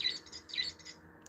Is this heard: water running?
no